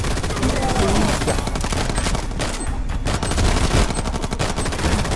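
An old man fires at the player in the R.I.P.D. video game, producing a loud, continuous burst of rapid gunshots with dense rattling through most of the stretch and a short lull midway.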